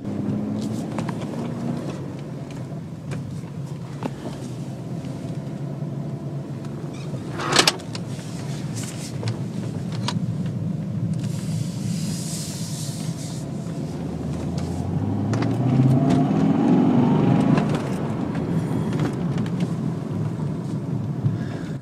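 Steady low rumble of a 2000 BMW E39 M5 engine heard from inside while driving, rising in pitch as it accelerates near the end, with a sharp knock midway.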